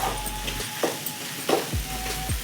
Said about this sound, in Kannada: ನುಗ್ಗೆ ಸೊಪ್ಪು ಮೆತ್ತಗಾಗೋ ತನಕ ಚೆನ್ನಾಗಿ ಫ್ರೈ ಮಾಡ್ಕೋಬೇಕು.